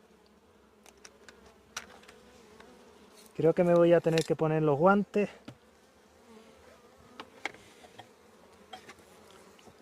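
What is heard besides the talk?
swarm of bees buzzing at a hive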